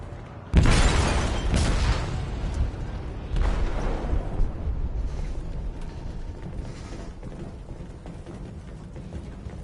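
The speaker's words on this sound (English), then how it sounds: "They detonated an explosive in the hold." A loud explosive blast detonates in a ship's hold in Detroit: Become Human, a sharp onset followed by a heavy rumbling roar, a second boom a few seconds later, then a long decaying low rumble.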